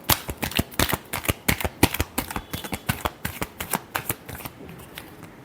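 Tarot cards being shuffled by hand, a rapid run of crisp riffling snaps in a steady, slightly uneven rhythm, close and clear, tapering off at the end with no voices.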